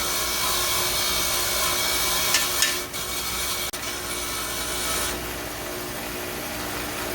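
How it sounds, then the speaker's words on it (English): Grinder cleaning corrosion off a brake caliper pin from a 2006 Porsche Cayenne during a brake pad job, a steady close abrasive whir with brief scraping contact bursts, no talking. "take that over to your grinder or whatever you need to use to clean this off"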